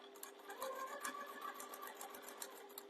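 A domestic sewing machine stitches steadily across the top of a fabric piece over a hanging tab, a continuous whirring hum with rapid needle clatter, close and fairly quiet, with no talking.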